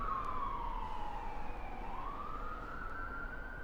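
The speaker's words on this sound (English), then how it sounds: "Especially as the ambulance is going past." A wailing ambulance siren sweeps down and back up in pitch, heard at a moderate distance as it goes by near Warkworth Castle, England.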